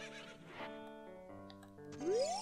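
A horse whinnies in The Legend of Zelda: Ocarina of Time over layered game music and effects, its rising neigh standing out loudly near the end.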